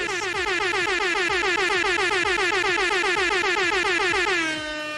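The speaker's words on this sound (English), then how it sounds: "I updated the software recently on my mixing board, and now the air horn button is just more obnoxious." Air horn sound effect fired from a button on a mixing board, a loud blaring, rapidly repeating honk that sustains for several seconds without cutting off, then drops abruptly at the end.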